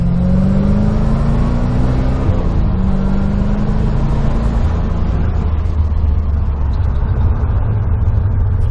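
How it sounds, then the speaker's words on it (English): A 1991 C4 Corvette engine revs hard and loud, its rising drone steady throughout as the rear tires spin, a continuous roar with no talk. "But yeah, back tires are spinning again."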